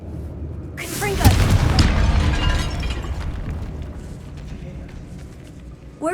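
Casting the Confringo fire spell in the Hogwarts Legacy video game sets off a sharp, loud explosion about a second in, then a long rumbling, crackling decay that slowly fades, with a brief new hit at the very end.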